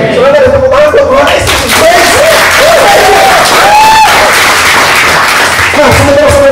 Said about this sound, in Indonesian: Saudara ada tepuk tangan buat Tuhan.